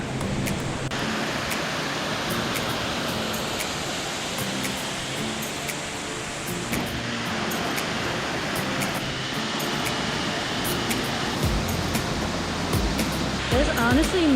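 An emerald-green waterfall in New Hampshire's White Mountains along the Kancamagus roars as a loud, broad, continuous rush, with a person's voice coming and going over it.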